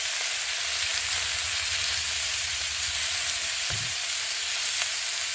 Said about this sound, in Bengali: জিরে বাটা দিয়ে ভালো করে কষিয়ে নেব